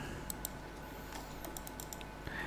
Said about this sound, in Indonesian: Bunyinya klik gitu ya, klik and right click ya